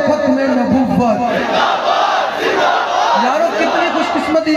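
A large crowd at a religious gathering shouts a devotional slogan in unison, a loud, dense wall of massed voices with rising and falling chant phrases that carries across the whole stretch.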